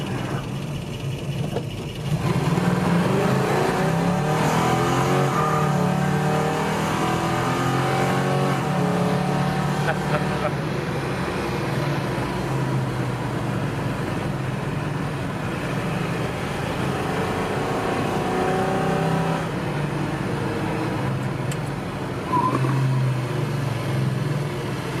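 A 1975 Chevy Luv pickup truck engine running steadily while driving, a continuous close mid-level motor drone with slight shifts in pitch as it revs, and no voices throughout.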